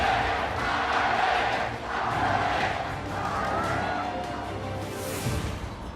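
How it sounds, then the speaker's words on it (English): Arena crowd at the 2017 League of Legends World Championship group stage welcoming a team on stage: a broad, roaring swell of cheering voices, steady and moderately distant, rising and dipping over several seconds. "the crowd welcomes them"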